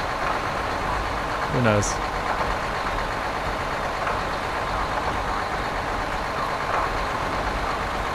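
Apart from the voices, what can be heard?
gas-driven-sounding vehicle engine in video game Stasis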